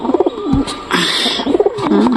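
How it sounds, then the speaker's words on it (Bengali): Pigeons coo in a loft, with repeated throaty, rolling calls close by and a brief flutter or scuffle in the middle, no talking. "পায়রাটাই জোড়া নিচ্ছে না খালি ডাকাটাই করে টোকাটুকি করে"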